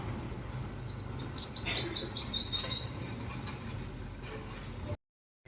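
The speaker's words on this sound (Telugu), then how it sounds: "ఎర్లీ మార్నింగ్ చిన్న చిన్న బర్డ్స్ సౌండ్." Small birds chirp in the early morning over a quiet city, a quick run of bright, close tweets over a soft low hum before it drops to silence.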